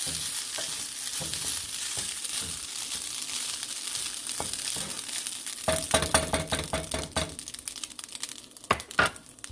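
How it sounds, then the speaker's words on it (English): A spoon stirs spices through a breakfast dish in a frying pan, giving steady scraping and clinking strokes over a soft background sizzle, with sharper, louder clatters toward the end. "I'm just going to put that in there and stir for a little bit."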